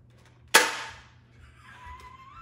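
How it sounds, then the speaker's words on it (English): A Nerf Magnum blaster fires a dart with one sharp, loud snap that decays quickly, followed by a faint thin whistle as the dart flies off. "Next we have the Magnum."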